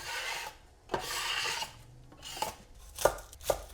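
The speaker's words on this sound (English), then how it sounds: "I'm going to do the same with the onions" A knife slices onions into thin slices on a wooden board with soft rasping strokes and a few sharper taps, quiet and close, with no voices.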